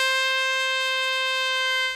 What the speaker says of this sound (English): the siren was sounded for the resumption of play